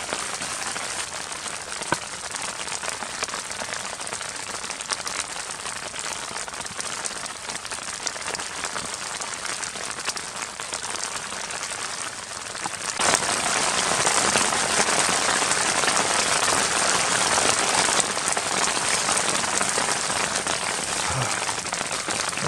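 Steady rain patters on a tent overhead at a mountain camp, continuous and close, growing noticeably heavier partway through.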